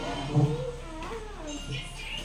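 A Siamese cat meows with drawn-out, wavering cries close by, one stronger call near the start and softer ones after, mixed in with people talking.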